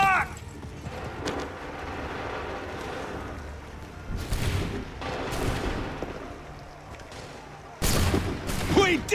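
Musket volleys crack out in the Assassin's Creed 3 Remastered video game, with several loud, sharp broadband bursts of massed gunfire spaced a few seconds apart over a rumbling battlefield din.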